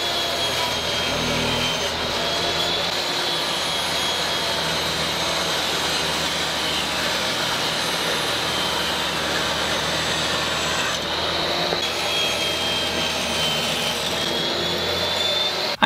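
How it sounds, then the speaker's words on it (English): A table saw with a crosscut sled rips steadily through wood pieces for a toilet paper cabinet, a loud, continuous high whine and rushing roar that holds for the whole stretch with small shifts as cuts begin and end. "And now with that jointed edge against the fence on my crosscut sled, I'll begin breaking all these pieces down to their final size."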